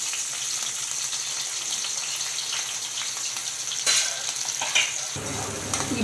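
Onions and green chillies frying in hot oil give a steady crackling sizzle, close and continuous, with a brief stirring clatter partway through and a deeper rush as the pan shifts near the end.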